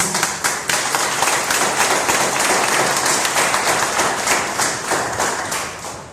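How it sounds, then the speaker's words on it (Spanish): A church congregation applauds for Jesus, with dense, loud clapping from many hands in a rapid, continuous patter and rhythmic accents. "¿Alguien sabe que pueden dar un aplauso a Jesús?"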